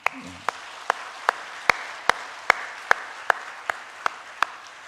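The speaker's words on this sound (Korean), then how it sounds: "우리 지금 어르신들 좀 그렇게 박수로 좀 축복하고 싶습니다." Church congregation clapping together in time: steady, evenly spaced claps about twice a second, crisp and fairly near, with a brief voice at the start.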